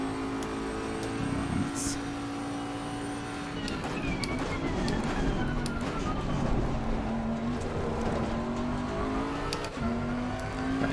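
Bentley race car in Assetto Corsa Competizione at Kyalami, engine droning loud and close at steady revs, the pitch dipping and climbing as the throttle is feathered through a corner, with other cars' engines faintly behind.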